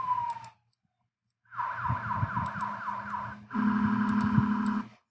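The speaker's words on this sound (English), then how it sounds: "Oh, the siren." A siren yelps in rapid repeating sweeps, sounding in two loud bursts separated by a short silence, with a low engine hum beneath.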